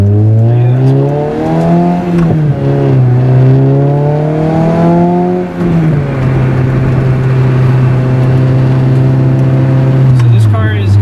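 A Lotus car with a 1.8 liter Toyota engine drones loudly from inside during a ride, its pitch climbing and settling through gear changes and a lift-off, while people talk over the engine noise.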